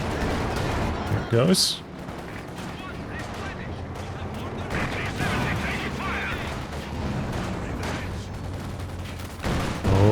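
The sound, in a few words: tank gun and gunfire in the video game Company of Heroes 2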